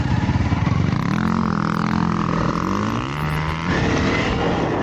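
A Honda CRF 300L dirt bike rides a dirt track, its engine droning loud and continuous with rising and falling revs as it shifts, close to the rider throughout.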